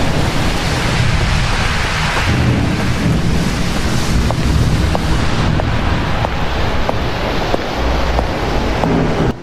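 Heavy storm rain pouring steadily with gusting wind, a dense unbroken roar close by that fills the whole clip, with faint clicks and drips scattered through it.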